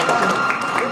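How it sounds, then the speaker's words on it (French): Guests at a first communion party applaud the two communicants, a short burst of crowd clapping mixed with voices talking over it. "On peut les applaudir quand même, non?"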